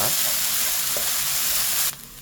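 Fried rice crackles and sizzles loudly as it is stir-fried in a pan, a steady close hiss that cuts off abruptly near the end.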